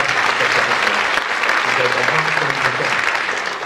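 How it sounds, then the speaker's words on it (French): Audience applause fills a comedy stage show during an improvised bit, dense and steady for the full length, with faint voices mixed into the clapping. "On peut l'applaudir quand même."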